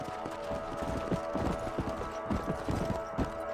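Steady clip-clop of horse hooves trotting at a brisk, even rhythm, close and continuous over a low ambient background, from the video game Red Dead Redemption.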